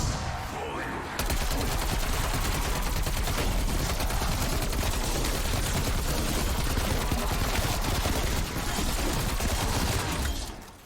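Sustained rapid automatic fire from the Succubus Stinger, the Pack-a-Punched Milano 821 submachine gun in Black Ops Cold War Zombies on Die Maschine, loud and continuous for about ten seconds after a brief quieter start.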